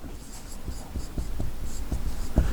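Chalk tapping and scratching on a board during a chemistry lesson, a series of short, irregularly spaced strokes heard up close with no speech.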